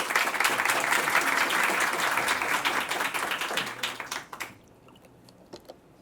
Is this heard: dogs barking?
no